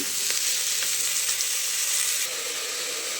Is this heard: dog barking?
no